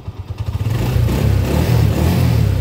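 A motorcycle, freshly repaired with a new 4-pin CDI, cranks with a few rapid pulses, fires up and settles into a loud, close, rough-running rev.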